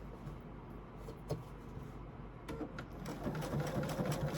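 A sewing machine stitches a fabric placemat, its quiet, steady mechanical whir running throughout at low volume with a few small clicks and a slight rise in intensity near the end.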